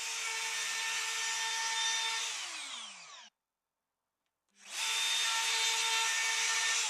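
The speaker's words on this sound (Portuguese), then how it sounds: "Abaixando a fresa cerca de 6 milímetros cada vez, usando a torre e o limitador de profundidade da minha tupia de mergulho" A plunge router cuts a kitchen countertop in steps of about 6 mm depth, a loud steady high whine with a falling pitch as it spins down, a second of silence, then the motor whining back up to full speed.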